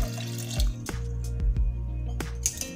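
Water poured into a pressure cooker holding soaked kabuli chickpeas and a little salt, heard as a steady close liquid rush with a few sharp drips and clinks, no talking.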